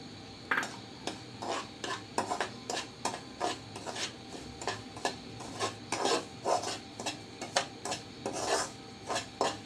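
Semolina roasting in ghee in a pan, stirred with a spoon in a fast run of rhythmic rasping scrapes against the metal over a faint sizzle, close and with no talk.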